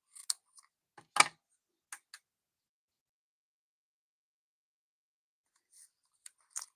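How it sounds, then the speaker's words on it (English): Scissors snip scrapbooking paper for a Halloween kit, giving a few short crisp cuts close to the mic, spaced apart and separated by quiet gaps. "we're going to go ahead and just angle cut these a little bit to kind of flag them per the instructions"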